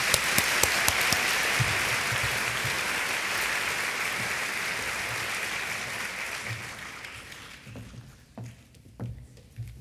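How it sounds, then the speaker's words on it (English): An audience at a Cleveland writers' event claps in sustained applause that gradually thins and fades out, leaving scattered claps and room noise. "Please join me with a round of applause for Patty Schlonsky."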